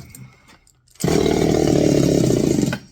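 A Redmax Zenoah G5000-series chainsaw engine idles slightly low, starting abruptly after a quiet second as a loud, close, rough buzzing putter that runs steadily before cutting off sharply near the end.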